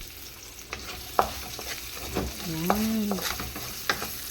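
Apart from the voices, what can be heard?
ginger and garlic frying and stirred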